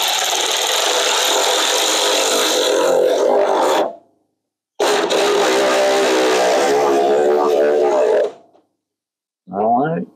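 Power tool driving captured-nut bolts out of a 1970s RV, two long loud buzzing runs each about four seconds, separated by a short pause and followed by a brief burst, close up.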